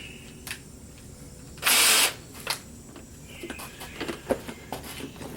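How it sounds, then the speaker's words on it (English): A cordless drill with a 3/8 inch bit bores into metal while installing a sway bar on a 1962 Chevy Biscayne, a loud, steady whir lasting under half a second, followed by scattered clicks and clatter of handling nearby. "3/8 inch drill bit."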